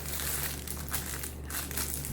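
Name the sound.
cutting glittery decorative mesh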